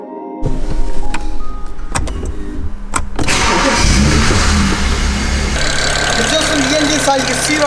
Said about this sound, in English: it's made a massive improvement on the sound of the engine